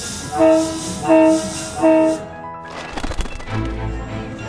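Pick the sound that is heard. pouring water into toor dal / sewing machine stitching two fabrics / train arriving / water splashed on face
train arriving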